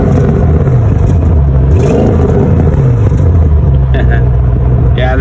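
A 2024 Audi RS7 Sportback's 4-liter twin-turbo V8 revs loudly and close, rising and falling in a deep, continuous roar with a rumbling undertone, and a voice speaks briefly over it.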